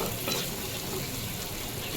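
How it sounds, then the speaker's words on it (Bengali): Fish oil fries in a pan with a steady, close sizzle and crackle, fairly quiet and continuous with no talking. "দেখো মাছের তেল কীভাবে রান্না করছি"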